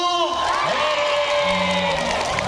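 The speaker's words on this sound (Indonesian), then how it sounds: "dhek tepuk tangan sambil teriak" Schoolchildren at a vocational high school's Prophet's birthday sholawat gathering clap and shout together, a loud continuous crowd cheer with whoops, close and sustained throughout.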